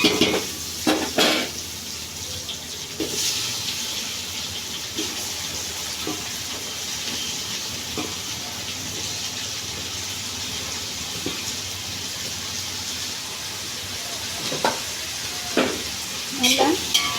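Onions and tomatoes sautéing in a pan for chicken biryani give a steady close sizzle, broken by repeated scrapes and clinks of a stirring utensil against the pan.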